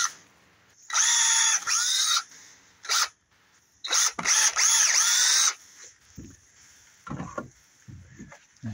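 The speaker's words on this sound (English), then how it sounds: "in the same grain line and drill another hole." A power drill boring a hole into a split piece of firewood, with loud whining bursts of drilling broken by short pauses, then quieter knocks and handling sounds as the drill stops.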